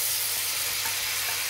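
King prawns frying slowly in butter, giving a continuous, even, close sizzle with no talk over it.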